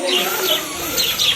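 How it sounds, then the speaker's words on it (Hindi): Many birds calling at a hilltop viewpoint near Mahabaleshwar, with overlapping chirps and coos against a steady outdoor background for a brief moment. "यहाँ पे बहुत सारी चिड़ियाएं हैं"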